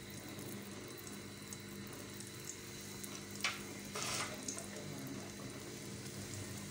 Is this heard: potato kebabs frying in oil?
yes